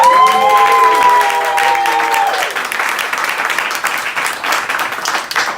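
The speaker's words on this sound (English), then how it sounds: "give her a huge round of applause" Audience at a magic show breaking into applause with some cheering, loud and dense, while a held tone fades out in the first couple of seconds and the clapping carries on, gradually thinning.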